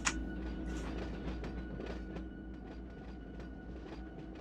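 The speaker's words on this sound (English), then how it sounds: "I'm in love with the train sounds." Trains in the Run 8 railroad game at West Colton yard give off a steady low rumble and hum, with light creaks and mechanical clatter and a sharp click at the start.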